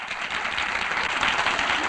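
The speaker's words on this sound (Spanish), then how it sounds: "Nuestra enhorabuena y nuestro aplauso a don Serén Santiago Pumarola." Studio audience on a 1955 radio show applauding, a steady dense patter of many hands clapping at moderate loudness, brief and continuous with no talk over it.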